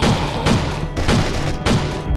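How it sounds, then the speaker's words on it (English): A gun turret fires in the zombie survival game State of Survival, three heavy, evenly spaced booming bursts over a continuous loud battle din. "The gunfire has attracted even more."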